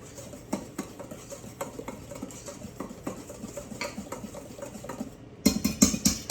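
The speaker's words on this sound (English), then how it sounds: "With a whisk, mix them all up until all of your dry ingredients are well combined." Whisk stirring flour, salt and other dry ingredients in a bowl for snickerdoodle cookies, producing quiet, rhythmic tapping and scraping that turns louder and brisker near the end.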